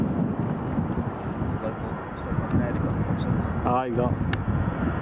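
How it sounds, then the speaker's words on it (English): An EasyJet airliner departs Edinburgh Airport as a distant, steady engine rumble mixed with wind buffeting on the microphone, with a brief spoken remark near the end. "There's EasyJet just going."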